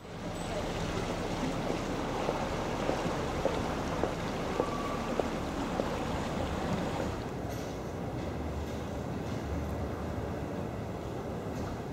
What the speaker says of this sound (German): Zwei Boote fahren hintereinander.